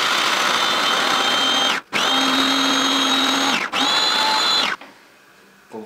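A food processor grinds about half a kilo of shelled walnuts into fine meal. Its steady, loud motor whine runs in three stretches with brief stops between, then falls quiet.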